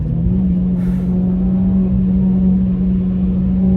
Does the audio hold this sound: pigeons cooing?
no